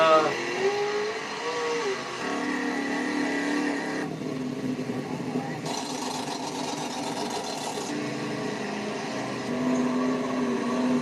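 A built Chevy truck engine revs and drones steadily, with rising and falling tones and shifts in pitch, heard from played footage over continuous mechanical noise.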